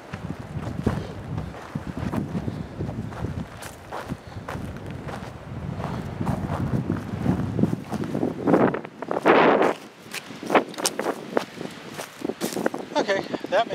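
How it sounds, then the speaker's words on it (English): Strong wind buffets the microphone on a high, open spot near a stock lake, a continuous rough roar with gusty swells, while people talk and footsteps crunch nearby. "It's really windy up here."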